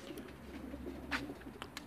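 Racing pigeons in a transport cabin holding around 1,300 birds coo softly and continuously, with a few brief flutters and bird calls over a steady low background hum.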